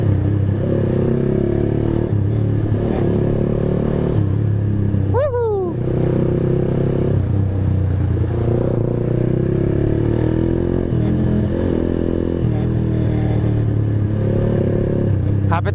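A Kawasaki Z200 motorcycle fitted with an SC Project exhaust rumbles loudly and steadily up close, with a sharp rev surge midway as it shifts, under a voice talking.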